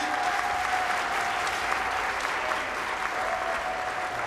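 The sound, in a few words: audience applause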